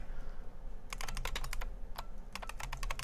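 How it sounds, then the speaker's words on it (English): Quick, light clicks of keys being typed on a computer keyboard in irregular bursts over a low steady hum. "if I start typing"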